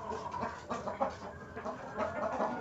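A sick chicken with a respiratory illness, making soft rasping, snoring-like breaths and low clucks against steady background noise, fairly close and quiet, with no voices.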